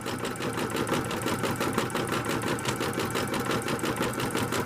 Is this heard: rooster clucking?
no